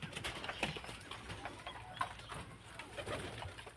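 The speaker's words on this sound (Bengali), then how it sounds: "এগুলো সাহারানপুরি কালদমা।" A pair of Saharanpuri Kaldama pigeons coo softly at a home loft in repeated low calls, faint against quiet background noise.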